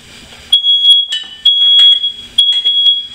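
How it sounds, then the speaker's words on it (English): A kitchen smoke alarm going off while the oven is on, sounding a shrill, piercing electronic beep in three repeated bursts, loud and close, with faint clatter between them. "now that we've silenced the smoke alarm, which goes off every time you have the oven on for some reason"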